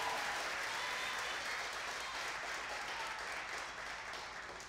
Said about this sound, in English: So big round of applause for Ethan.